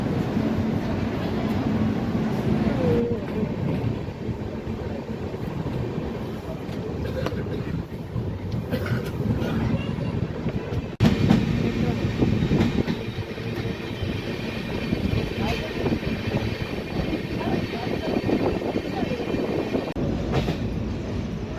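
An express train pulls out of Hadapsar station, heard from inside: a continuous loud rumble of wheels on rails with rhythmic clatter and occasional squeals, steady for the whole stretch, with faint voices now and then.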